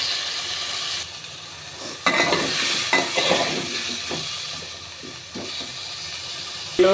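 Peeled boiled eggs frying in a little oil, a steady hiss of sizzling with occasional spatula scrapes and turns, close and moderately loud.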